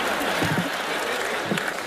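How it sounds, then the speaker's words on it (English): Audience applause for Teller on the magic show stage, a continuous bright patter of many hands clapping, steady and full with a few louder claps standing out. "Give Teller a big round of applause"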